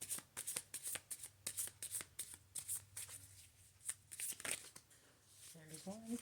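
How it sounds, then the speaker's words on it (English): Tarot cards shuffled by hand in a steady run of crisp riffling bursts, close and fairly loud, with a low hum underneath and a brief voice near the end. "I shuffle till they fall out."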